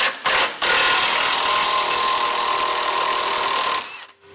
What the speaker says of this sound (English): Now we need to pop off these tow hooks here. There's just two 15mm bolts holding them in.